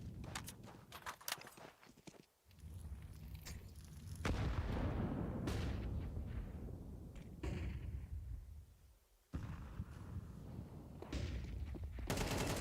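Rapid bursts of rifle gunfire from a Counter-Strike esports match at the Tipsport Conquest of Prague, with AK and Galil shots cracking in clustered volleys, brief pauses between exchanges and footsteps in the background.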